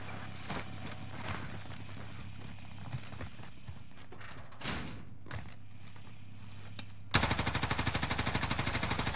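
Rapid automatic gunfire in a multiplayer shooter game (Rebirth mode), scattered shots and impacts at first, then a loud sustained burst of evenly spaced rounds closing out the clip.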